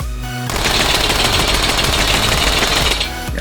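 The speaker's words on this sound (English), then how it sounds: "That's the Mini Uzi." Mini Uzi submachine gun in the H3VR virtual reality shooter fires one sustained burst of rapid automatic shots. It runs loud and close for about three seconds after a short quiet lead-in.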